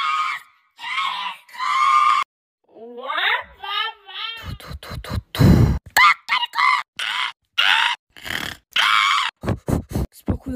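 Rooster crowing in a Toca Boca video game, several bursts of stylized crowing and clucking, loud and close, followed by a child's speech.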